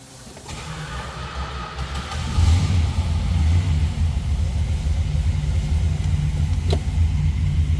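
A 1965 Plymouth Barracuda engine cranks and catches, then settles into a steady, loud low rumbling idle that continues to the end.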